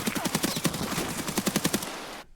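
Automatic gunfire in Escape from Tarkov (SPT) on the Woods map: two rapid bursts of evenly spaced shots, loud and close, with a short gap between them, then a sudden cutoff.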